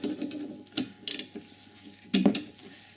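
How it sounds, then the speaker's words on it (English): A six-sided ratchet spanner works on a Sealey RE2281 coil spring compressor, giving bursts of close mechanical clicking and ratcheting in short irregular runs with quiet gaps between them. "So your 6-sided ratchet spanner is designed to go onto the end here,"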